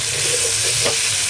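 Ginger, garlic, salt, turmeric and chilli powder frying in hot oil in a pan, a dense, loud, continuous sizzle heard close up with no voices over it.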